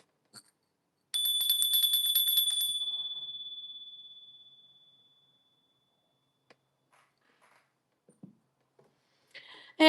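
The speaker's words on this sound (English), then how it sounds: "I am going to ring the bell" A bright bell is struck once and rings out with a clear sustained tone that slowly decays over several seconds, followed by quiet room sounds and a few small knocks.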